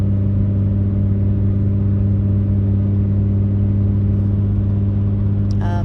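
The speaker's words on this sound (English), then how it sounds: "Because I know you can hear my car." A car engine runs at a steady idle, a loud, even, continuous rumble with a constant low hum and no variation throughout.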